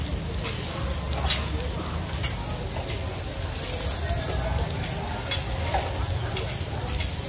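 Fried oysters sizzle loudly and steadily in a giant pan at a busy Nakhon Pathom fried-oyster stall, stirred nonstop, with occasional sharp metal scrapes and faint voices underneath.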